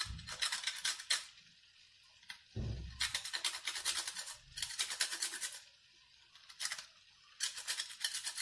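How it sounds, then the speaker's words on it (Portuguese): Nutmeg rubbed against a grater in a home kitchen, several bursts of rapid, raspy scraping strokes separated by quiet pauses, close and fairly soft, with no talk. "vou ralar um pouco de noz moscada"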